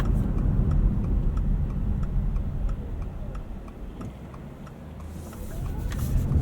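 A 2025 Subaru Forester Hybrid Touring pulls away from a stop, a low, steady drivetrain hum and road rumble heard from the cabin with a regular ticking running through it.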